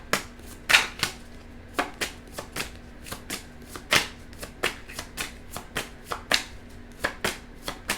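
Tarot cards being shuffled and handled close by, a string of crisp, papery riffles and snaps in an uneven rhythm, with no talking.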